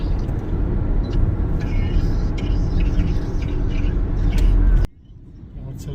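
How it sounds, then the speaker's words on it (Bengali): A car driving on a snowy road in Blacksburg, Virginia, heard from inside as a loud, steady rumbling road and engine noise that drops suddenly near the end to a quieter hum. "আমার ছেলে ড্রাইভিং করছে।"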